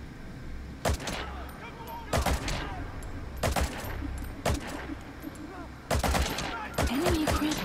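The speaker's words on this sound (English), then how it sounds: "Just gonna have to shoot him." Gunfire in the stealth video game Metal Gear Solid V: six or so sharp, loud bursts of shots at irregular intervals over a low, droning game ambience, with faint game voices in between.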